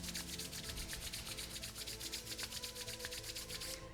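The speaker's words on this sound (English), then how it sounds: "take your hands together, rub them" Two palms rubbed briskly together in a steady, continuous swishing friction during a calm yoga session, close and alone with no talking, the rhythm holding evenly before fading at the end.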